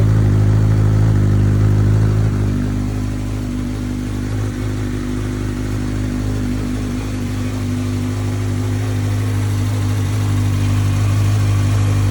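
A 2012 Suzuki GSR 750 motorcycle engine runs after a spark plug change, producing a loud, steady, close-up idling rumble with a knocking fault, heard alone without any talk.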